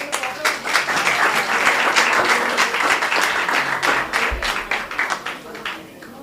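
An audience gives a warm round of applause for the speaker Laura after her introduction at a talk, with steady, full clapping from many hands that slowly thins toward the end.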